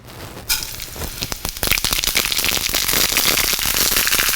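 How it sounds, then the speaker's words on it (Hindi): Sesame seeds with fenugreek and fennel crackling in hot mustard oil tadka for tomato chutney, a sudden burst of sizzle that builds into dense, continuous popping and spitting, close and loud. "दूर से, हाँ तिल चटकेगा।"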